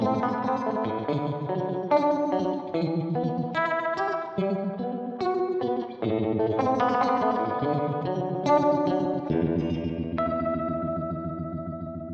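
A guitar runs through a Thermion Powervibe pedal, its chords and picked notes swirling with a throbbing, chorus-like vibe modulation and mild grit, played steadily and ending on a ringing sustained chord.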